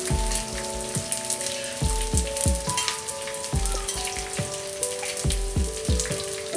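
Edible gum (gond) frying in ghee over a low flame: a continuous close crackling sizzle punctuated by repeated low thuds and knocks at an irregular rhythm, with no talking.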